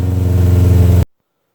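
Car engine idling right after being jump started from a dead battery with a Bestek portable jump starter, a loud, close, steady low rumble with a slight pulsing that cuts off abruptly after about a second.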